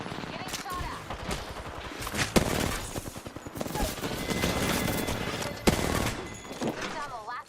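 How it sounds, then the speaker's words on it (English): Repeated gunfire in a squad-based shooter video game, with scattered loud shots and bursts of close and distant fire, mixed with busy in-game voices and action sounds. "Getting shot at."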